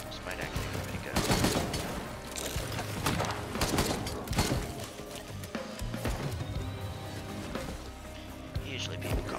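Bandit's shotgun blasts in Risk of Rain 2, a run of sharp, loud bursts that cluster at irregular intervals over busy game music and effects, with a voice talking throughout.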